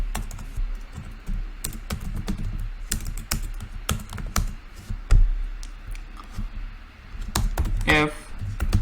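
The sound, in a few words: typing code on a computer keyboard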